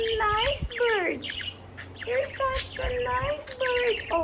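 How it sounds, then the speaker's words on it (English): A pet budgie squawks and chirps in a rapid, busy run of calls and whistles, close and fairly loud, filling almost the whole stretch with only brief pauses. "You're such a nice bird."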